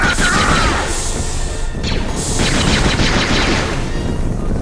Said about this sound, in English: I'm gonna use the classic Stormtrooper gun.